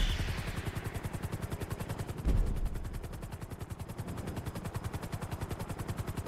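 Propeller-style aircraft engine in GTA V, a loud, rapid, evenly pulsing throb that holds steady throughout, with a brief heavier thump partway through.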